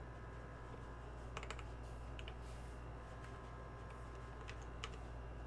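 Computer keyboard typing: sparse, faint key clicks in short clusters over a steady low hum, quiet and close, with no speech.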